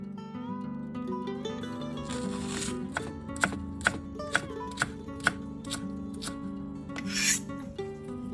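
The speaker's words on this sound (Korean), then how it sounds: "대파는 반을 가르고 어슷썰기로 썰어주세요." A knife slices a halved green onion diagonally on a cutting board, giving a series of crisp, evenly spaced cuts over a low steady background hum.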